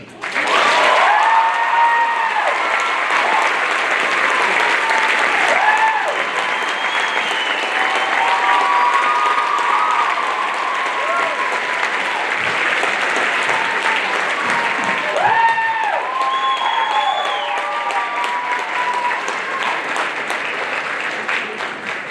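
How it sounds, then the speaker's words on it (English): A large audience at a high school scholarship awards ceremony applauds steadily and loudly for over twenty seconds, the dense clapping broken by a few cheers and whoops, with voices faintly under the din. "give them a round of applause"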